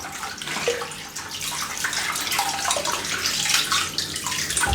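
Water runs steadily from a tap to wet a shaving brush before lathering shaving cream, a continuous close splashing hiss with no talk.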